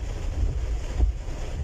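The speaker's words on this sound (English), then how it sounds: "A massive stream of water flowing down from the Ravana Falls to the Allavalawaya road was recorded on a" Heavy water cascading down from Ravana Falls onto the Allavalawaya road, a steady broadband roar with buffeting wind noise across the mobile phone microphone, continuous and close throughout.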